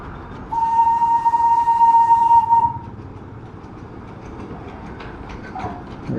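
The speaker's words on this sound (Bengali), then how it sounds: "দার্জিলিংয়ের ফেমাস টয় ট্রেন যেটা এটা হচ্ছে কি যে স্টিম ইঞ্জিন এই আমার ডান সাইড দিয়ে যাচ্ছে" The Darjeeling toy train's steam engine passes close by, sounding a loud, sustained whistle for about two seconds, followed by a low rumbling roll of the train.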